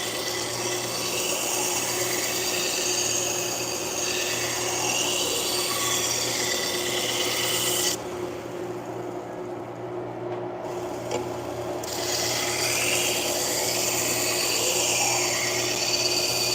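A knife blade sharpened on a 1x30 belt sander, a steady close whirring hiss with grinding texture that drops briefly in the middle before resuming.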